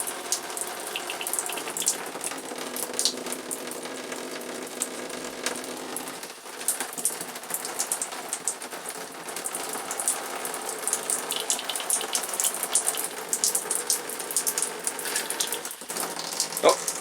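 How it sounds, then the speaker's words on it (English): Pink RV antifreeze runs steadily from a hot water faucet during winterizing, a continuous close hiss of flowing liquid that holds for the whole span with small fluctuations. "There's the antifreeze coming out of it now."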